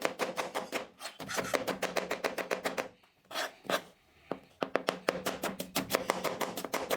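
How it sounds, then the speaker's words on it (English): Knife julienning red onions on a board: rapid, even chopping strokes in quick bursts, loud and close, with a short pause in the middle before the rhythmic cutting resumes. "I'm going to julienne my red onions first"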